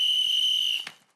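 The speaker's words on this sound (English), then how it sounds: "These are our emergency whistles." An emergency whistle with a compass is blown in one loud, shrill, steady blast lasting nearly a second, then cut off abruptly, followed by a short clatter and quiet.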